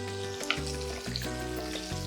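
A steak with fresh garlic and thyme sizzles steadily in a hot pan, a close, crackling fry with occasional sharp pops and the clink of a utensil.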